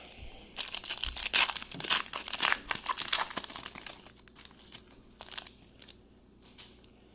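Foil packs of 2020 Illusions football trading cards torn open by hand, a run of loud, close crinkling and ripping bursts that thin out into softer sporadic rustles, with no talking.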